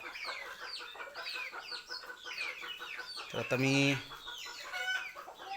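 Hens and young chicks cluck and peep in a farmyard while being fed chopped cabbage, the calls steady and close, with a louder burst of overlapping clucking midway and someone talking over them.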